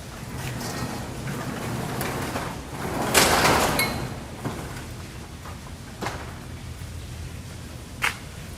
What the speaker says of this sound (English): let me get this door open